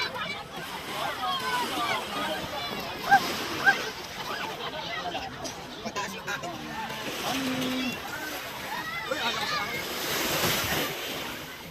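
Sea waves wash onto a summer beach in Bataan, a steady background surf rush under people chatting and calling out nearby.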